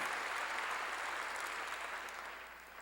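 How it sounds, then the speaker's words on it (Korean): A church congregation breaks into applause during a sermon, a broad wash of clapping from many hands that stays steady, then slowly fades toward the end, heard somewhat distant and soft. "박수로 하나님께 영광을 돌려야 합니다"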